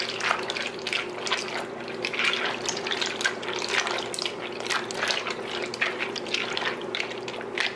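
Water pours into a pot of creamy curry pasta soup, a continuous close splashing and gurgling stream with fluttering bubbly bursts, heard alone without talk.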